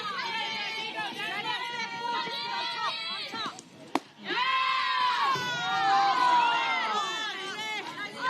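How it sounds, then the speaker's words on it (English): A softball crowd of about fifty people at a women's club championship game lets out a long collective groan, a swelling murmur of many voices that dips briefly after a sharp knock, then rises again. "One long groan from about 50 people out there."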